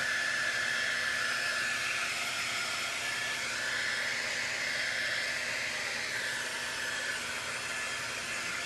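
A hair dryer blows steadily on a handmade Halloween door round, a continuous close, even whooshing hiss with no pauses and no talking.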